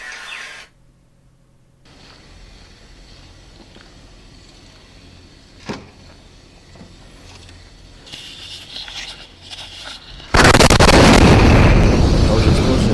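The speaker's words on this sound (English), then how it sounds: "That was an explosion." An explosion captured on police body cam: a quiet, muffled stretch with a sharp pop midway, then a sudden loud, sustained roaring burst that swamps everything to the end.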